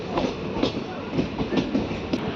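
The Tungabhadra Express pulls into Shadnagar station on its Kurnool to Secunderabad run, its wheels giving a steady, close rhythmic clickety-clack over the rails.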